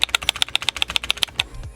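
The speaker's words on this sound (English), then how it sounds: "My left key sounds like this, which is normal, but my right key sounds like this." Rapid, loud clicking of a single key on an old Logitech keyboard, about a dozen sharp, evenly spaced presses close to the microphone, then a faint tail.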